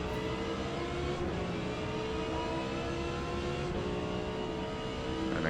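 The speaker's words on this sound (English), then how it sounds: "it's very, very hard braking all the way down to 1st gear" An Audi R8 racing in the Forza GT class at Yas Marina in Forza Motorsport, its engine roaring loudly and continuously as it brakes hard and downshifts to first gear, with the revs surging and dropping.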